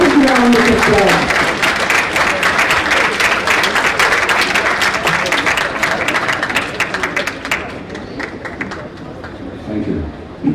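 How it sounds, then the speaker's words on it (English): Audience applause at a national conference session, a dense wash of clapping that starts loud and thins out over about ten seconds, with some murmuring from the crowd underneath. "Please give him a big round of applause."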